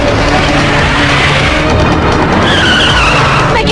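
A car speeds and skids in a loud, continuous roar of engine and tire noise, with a squealing slide rising toward the end.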